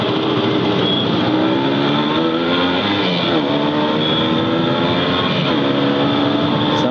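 A motorcycle engine roars loud and close at sustained high revs during a fast ride, with steady rising and falling pitch and no break.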